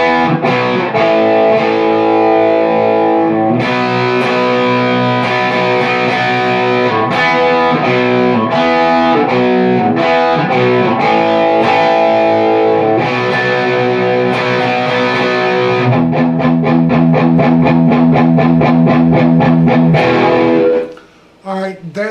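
Distorted electric guitar playing the chorus of a rock song, steady loud chords with palm-muted chugging toward the end before stopping abruptly.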